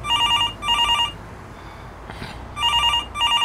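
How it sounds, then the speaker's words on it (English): A telephone bell rings in two bursts of rapid repeated trilling with a quiet gap between, loud and close, heard alone in a game scene. "that sound, the phone, I ran to pick it up"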